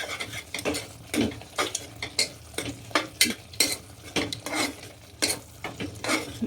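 A spoon stirs spinach cooked with gram flour in a pan, making a rhythmic series of roughly a dozen scraping strokes with faint sizzling between them, close by and moderately quiet.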